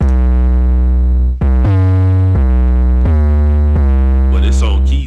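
Loud 808 drum sample from a kit playing a series of deep booming bass hits with long sustained pitched tails, the notes shifting in pitch, before it is tuned to key.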